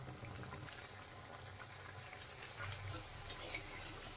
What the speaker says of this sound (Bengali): উল্টে পাল্টে কিন্তু আমি চপগুলো ভালো করে ভেজে নেব